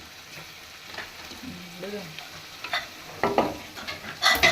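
Curry leaves and green chilies crackle and sizzle in hot tempering oil, a steady frying hiss with sharper spattering bursts toward the end, while voices talk nearby.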